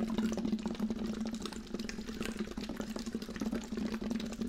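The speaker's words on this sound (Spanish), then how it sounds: "solamente haciendo burbujas" Bubbles blown through a tube into water as a Lax Vox vocal exercise, a steady continuous burbling rumble with no voiced tone, close and constant throughout.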